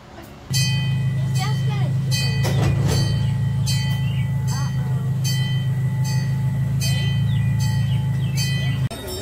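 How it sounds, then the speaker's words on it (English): Miniature train ride at Pullen Park, a close, steady rumble of the running train with rhythmic clicking over the rails, starting abruptly and continuing until it cuts off, with people talking over it. "relax, and enjoy the train ride."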